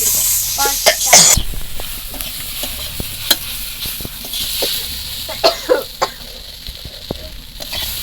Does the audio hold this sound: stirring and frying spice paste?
yes